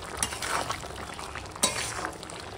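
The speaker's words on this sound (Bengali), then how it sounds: "ভালো করে মিশিয়ে নেব" A spoon scrapes and clinks in a pan as pointed gourd and prawns are mixed with ground garam masala paste, with soft frying noise underneath and a couple of sharper knocks against the metal.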